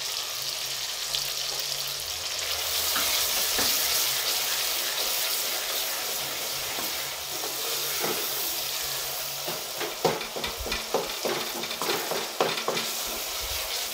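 Whole spices, cinnamon stick, cloves, black peppercorns and cumin seeds fry in hot oil with a loud, steady sizzle, close up, joined later by scraping stirs and clatter, with no talking.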